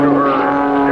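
Patty Wagstaff's aerobatic propeller airplane drones steadily at an air show at NAS Patuxent River, a sustained buzzing engine tone under a voice speaking over a loudspeaker.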